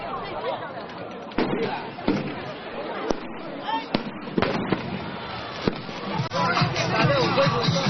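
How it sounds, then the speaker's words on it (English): Fireworks set off along the banks of the Heilongjiang pop and bang at irregular intervals, some sharp and close, over a crowd's babble and a voice talking throughout. "judging by the array of fireworks being set off on the banks of the Heilongjiang"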